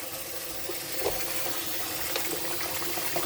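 Tap water pours steadily into a kitchen bowl to rinse raw salmon, a continuous close hiss and splash with faint bubbling and no voices.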